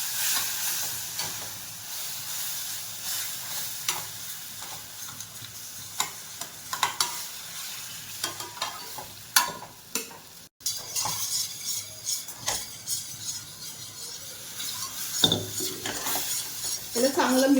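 Maida flour is stirred in a pan for a white sauce, with milk added a little at a time: close scraping and clinking of a spoon against the pan over a soft sizzle, irregular strokes, no voices.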